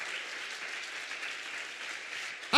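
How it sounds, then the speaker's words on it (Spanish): A church congregation claps in praise, a steady wash of applause heard somewhat distantly and evenly, ending in a brief louder bump. "Dale un aplauso a Dios."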